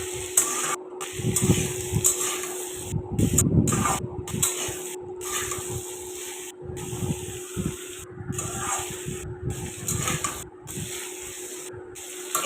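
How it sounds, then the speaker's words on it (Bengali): Potatoes frying lightly in a pan for a white potato curry: a steady sizzling hiss with a faint constant hum underneath, swelling into louder crackling bursts now and then, close and continuous with no talking. "এখানে দেখো আলুগুলোকে আমি এখন হালকা করে ভেজে নিচ্ছি"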